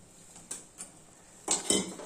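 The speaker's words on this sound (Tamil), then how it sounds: "நான் ஒரு ரெண்டு கத்திரிக்காய் வெட்டி வச்சுருக்கேன் அதையும் போட்டுக்கலாம்" Cut brinjal pieces tip into a cooking pot of green sambar dal gravy, with a few metallic clinks of utensils and then a louder clatter of pieces and a spoon against the pot, close and alone.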